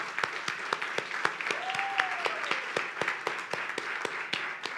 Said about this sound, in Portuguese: Vamos receber nossos visitantes com uma salva de palmas?